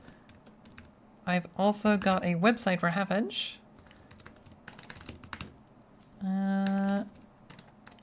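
Computer keyboard typing, steady close clicks of keys running throughout while someone talks over them.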